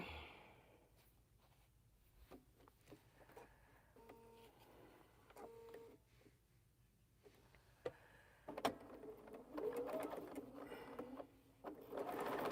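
A home sewing machine stitching two quilt squares together, its faint motor whirring in short uneven runs with small clicks and knocks between them, quiet and close, growing busier toward the end.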